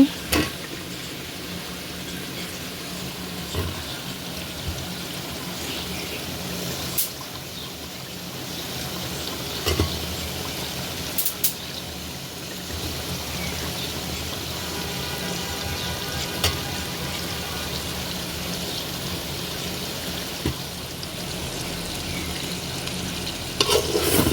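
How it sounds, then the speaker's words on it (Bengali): Tomatoes and mixed vegetables fry in a pan with cooked-down spices, a steady close sizzle running throughout with occasional scraping stirs and clinks of the spoon, no voices. "এখন সবজিগুলো দিয়ে দেবো টমেটোগুলো দিয়ে দিচ্ছি"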